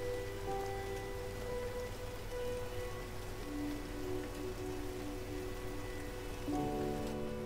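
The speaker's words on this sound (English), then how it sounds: "It's raining. It's pouring." Steady rain falling in Silent Hill 2 Remake, a constant even hiss of downpour under a low droning game ambience, with no talk.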